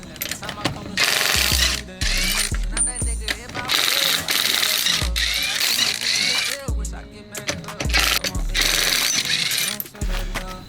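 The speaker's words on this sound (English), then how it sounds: "But let's start by taking these 17mm lug nuts off." Impact wrench zipping 17mm lug nuts off a BMW 335i's wheels in a garage, loud repeated bursts of rattling hammering with brief pauses between nuts and a low drop at the end of each run, no talk.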